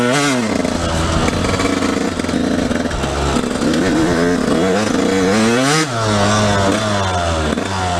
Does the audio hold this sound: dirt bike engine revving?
yes